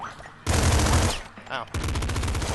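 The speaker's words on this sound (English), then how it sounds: "The amount of bullets this thing fires." Rapid gunfire from a gun in the video game Nuclear Throne, two dense bursts of fast, loud shots with a brief gap between them, plus a short spoken exclamation over the firing.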